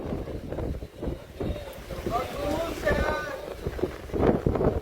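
A strong wind roars during a Kalbaishakhi storm at Patenga sea beach, buffeting the microphone in continuous heavy gusts while people talk nearby.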